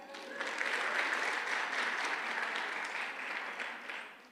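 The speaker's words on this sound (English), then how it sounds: "Round of applause for that." A round of applause rises from a conference audience in Michigan at the opening of an early math program showcase. It builds quickly into dense, sustained clapping, holds steady, and then tapers off near the end.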